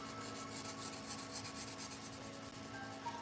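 Pet grooming shears are sharpened on a 600 grit stone, a quiet rhythmic rasping of steel rubbing back and forth in repeated even strokes, close and alone without talk.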